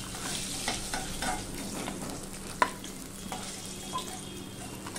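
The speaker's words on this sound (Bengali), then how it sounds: "এবার মাছের মাথাগুলো ভেজে নেব। কড়াই বসিয়ে দিয়েছি।" Fish heads fry in hot oil in a wok with a continuous close sizzle and crackle, interrupted by a single sharp metallic clink and a few soft stirring knocks.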